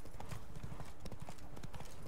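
Horse hooves clip-clop steadily as the rider travels across Witcher 3: Blood and Wine, a quick, even rhythm of close hoofbeats that runs through the whole short stretch.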